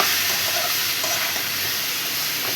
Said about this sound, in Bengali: দেখো এখন একটু কষিয়ে নেবো